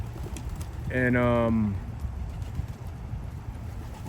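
Racing pigeons give a single short, throaty coo lasting under a second, set against low background noise with someone talking nearby.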